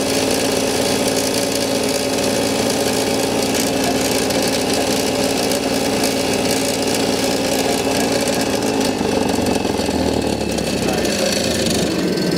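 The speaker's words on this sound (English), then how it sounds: "next step is the wire wheel to clean the threads of the spark plugs." A bench-mounted wire wheel grinder spins against spark plug threads to scrub them clean, giving a loud, steady whirring roar with gritty brushing texture that runs continuously without pauses.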